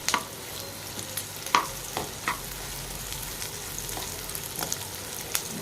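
Tamarind dropped into a pan of frying cumin seeds and stirred for a sour bitter-gourd (kakarakaya) vulli karam, giving a steady soft sizzle with scattered sharp scraping clicks of the spoon, close and with no talk.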